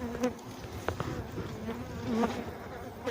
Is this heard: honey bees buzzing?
yes